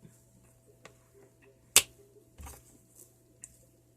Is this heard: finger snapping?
yes